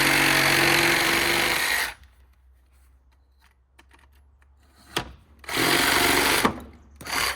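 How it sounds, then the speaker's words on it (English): A reciprocating saw rasps loudly while cutting a bird's mouth notch into a roof rafter on a tiny house build, a sustained burst that stops, then short restarts after a quiet pause. "So if you take your sawzall, stick it in here, turn it off safety."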